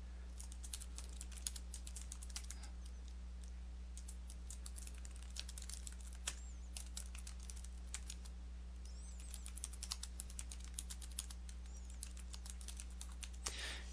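Someone types continuously on a computer keyboard in OneNote 2013, with quick irregular key clicks and occasional sharper presses like the Enter key, heard close over a steady low hum with no speech.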